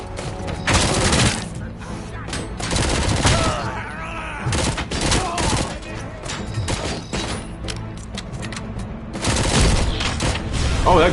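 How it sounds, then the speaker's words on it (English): Bursts of gunfire and a heavy grenade blast in the RoboCop Rogue City video game, loud, repeated volleys of shots with booming impacts spread across the scene. "Oh, that grenade hurt."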